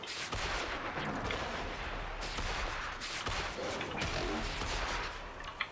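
Gunfire in Warframe, aimed at the buttons on the sides of a golem's head during the Jordas Verdict in Archwing, with steady loud overlapping shots and heavy combat noise running throughout.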